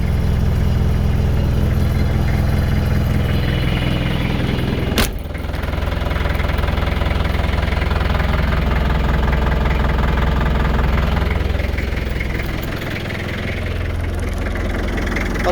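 A Land Rover engine idles steadily after starting up, having sat unused for about a month, with a loud, continuous low rumble and a brief sharp click partway through.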